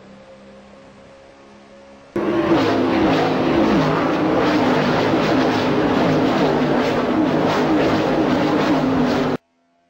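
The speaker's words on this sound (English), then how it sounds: "Those cars are running nose to tail, and they all are running for position." A pack of race cars running nose to tail roars past, with a loud, sustained engine blare that starts abruptly and holds for about seven seconds before cutting off.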